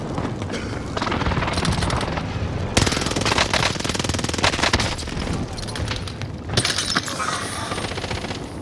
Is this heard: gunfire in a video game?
yes